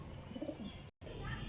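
Taband breeder pigeons coo softly in a few low, rolling calls, faint against a steady background hiss, with a brief dropout midway.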